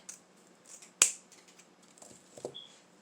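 Scissors give a single crisp snip through a craft chenille stem for a snowflake wreath, close and sharp against an otherwise quiet room, with a few faint handling clicks around it.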